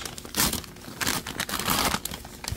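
Wrapping paper on a birthday gift package being torn open by hand, loud close crinkling and ripping in several bursts with brief pauses between, no talking.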